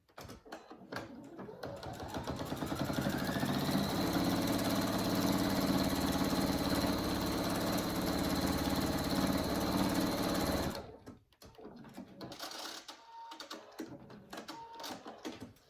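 A sewing machine stitches a fabric honeycomb hammock for animals, its steady motor whirr and rapid needle chatter running fast and loud for several seconds before stopping, with quieter handling noises afterward.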